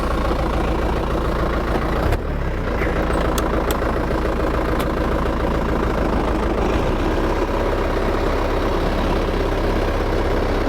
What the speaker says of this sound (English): What you're doing, you're letting the tractor do all the work